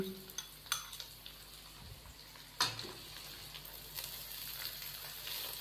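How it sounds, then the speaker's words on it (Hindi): Shredded carrot, capsicum and cabbage are tossed in a pan with a spatula, quiet sizzling under a few sharp scrapes and clinks of utensil on metal. "इन सब्जियों को हम अच्छे से मिक्स करेंगे और 1 से 2 मिनट के लिए हम मज़ीद इसको भून लेंगे"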